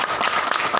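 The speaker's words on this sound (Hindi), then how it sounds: "एक बार जोरदार ताली बजाएं।" A short burst of dense crowd applause from a church congregation during a preaching service, loud and continuous without pause.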